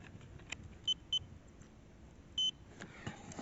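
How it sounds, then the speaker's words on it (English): An HSP 1/10 RC car gives three short electronic beeps when its 2S battery pack is connected, two close together and a third after a pause, quiet over faint room noise. "So those 3 beeps were signaling that it's a 2S pack and then signaling connection"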